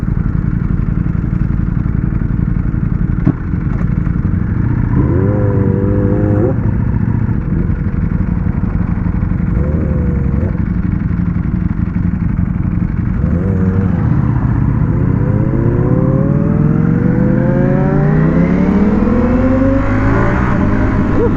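A Ducati Panigale V4S motorcycle on a night ride in London, its engine revving up through the gears with rising whine, short throttle blips mid-clip and a long climbing pull at the end. The engine stays loud and close under steady wind noise.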